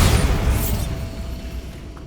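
A Bombarda spell explosion from Hogwarts Legacy, a single loud booming blast that rumbles and fades over about two seconds, heard alone.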